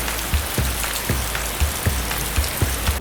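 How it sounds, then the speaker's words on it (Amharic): Rain falls steadily on a surface, a dense even patter with regular heavier drops striking close by, alone with no voices. "a very rainy day it's very rainy today"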